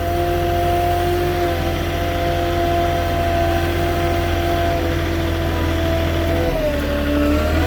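A forklift truck engine runs steadily under load while lifting, a loud, close mid-pitched drone with a constant hum that shifts in pitch near the end as the revs change.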